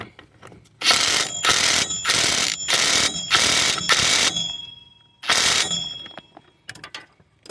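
Rapid bursts of a ratchet wrench tightening the rear bolt on a front shock absorber of a 1999–2007 Chevy Silverado 1500, six loud clicking runs separated by brief pauses, close and without talk.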